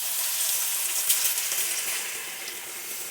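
Fish sizzles as it fries in hot sesame oil for a Kerala-style fish pickle, a dense, steady crackling hiss with no voices.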